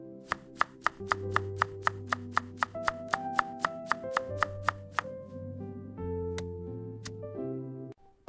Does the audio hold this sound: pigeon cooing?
no